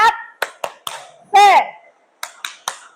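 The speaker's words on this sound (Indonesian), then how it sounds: "Tepuk semangat," A high-school class claps the tepuk semangat chant in sharp, rhythmic bursts of claps. A sung or shouted vocal line rises in the middle of the pattern.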